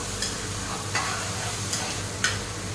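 Bitter gourd slices fry in a pan with only salt, giving a steady close sizzle broken by a few sharp scraping clicks as they are stirred.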